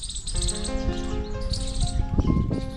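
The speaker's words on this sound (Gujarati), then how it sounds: "ખીચકોલીઓ પણ બોલે છે" Squirrels chirp among birds at a bird-feeding shelter, with a dense mix of close, overlapping tweets and squeaky calls in quick succession.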